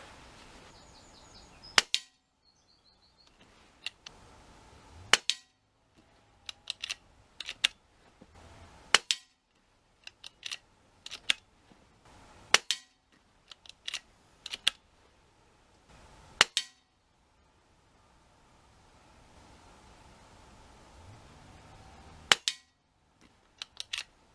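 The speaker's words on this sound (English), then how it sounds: "I'm now going to aim for the target bottom right headshots to see where it's landing." Rifle shots at an outdoor shooting range while zeroing on a target, a dozen or so sharp reports spaced irregularly over quiet stretches, some followed by faint clinks and metallic handling, no talk.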